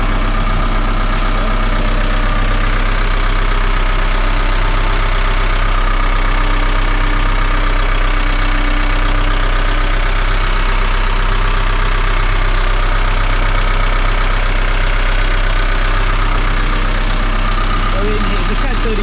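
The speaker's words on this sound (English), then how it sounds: "KAD32 engine, Volvo Penta KAD32." Volvo Penta KAD32 diesel inboard idling in the engine bay of a Sealine S23 sports boat, a steady loud close drone with a low knocking rumble and no change over the whole stretch.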